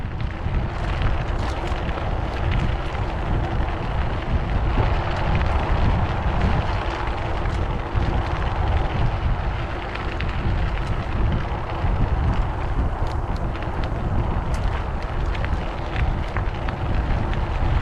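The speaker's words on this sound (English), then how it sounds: "Wind is picking up." Steady, loud wind buffeting the microphone while riding a bicycle on a gravel loop near Era, Texas, a continuous broadband roar with no speech over it.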